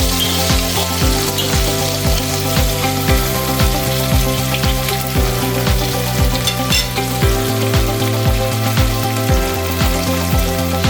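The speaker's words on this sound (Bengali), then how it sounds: "দুপাশটা ভালো করে ভেজে নেবেন" Loud, continuous sizzling and spitting of tilapia fish frying in oil, close up, with background music playing throughout.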